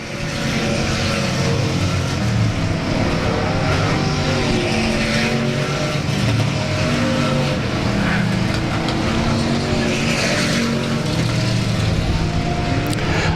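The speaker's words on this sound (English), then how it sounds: "White flag, 22 car, Zachary Calhoun" Race cars roar around the track at South Texas Speedway during the closing laps of a race, a loud continuous engine din with several cars swelling past in waves, and little or no talk over it.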